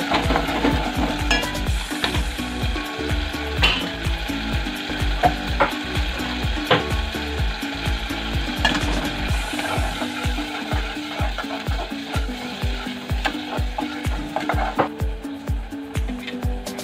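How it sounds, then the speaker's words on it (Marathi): Masala paste for a prawn curry roasts in hot oil with a steady sizzle. A spoon scrapes and stirs the pan in close, rhythmic strokes the whole way through. "आपण पहिलं पण तेलामध्ये भाजून घेतलेलं आहे, तरी पण थोडं तेलामध्ये आपण भाजायचं आहे।"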